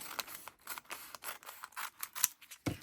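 Scissors snip the edge off a coffee-filter bag for a junk journal page: a close, steady series of short crisp cuts in quick irregular rhythm, with no talk over them.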